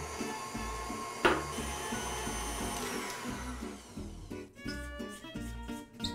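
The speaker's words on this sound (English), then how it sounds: "we're gonna add some cream cheese and powdered sugar to a mixer" An electric mixer whirs steadily as it beats cream cheese, powdered sugar and butter into a macaron filling, a continuous motor drone with rhythmic knocking from the beaters, close and moderately loud.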